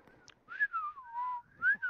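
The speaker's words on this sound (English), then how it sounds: "Shall we whistle nonchalantly?" A person whistles a casual, wandering tune in a few sustained phrases with short breaks, close and fairly quiet, during a War of Right Grand Campaigns multiplayer match.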